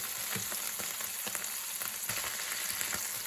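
A flat iron steak sizzles in a pan, a steady close crackle with faint scraping taps scattered through it.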